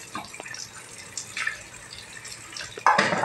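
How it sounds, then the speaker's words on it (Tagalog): Water is added to a cooking pot while a home meal is prepared, with soft trickles and drips followed by a louder, fuller pour near the end. "Lagyan natin ng tubig."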